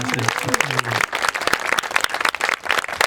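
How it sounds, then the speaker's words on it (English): Audience applause at an outdoor groundbreaking ceremony for an inclusive park, a steady wash of clapping from a gathered crowd lasting a few seconds, with a brief voice at the start. "Let's give them a round of applause"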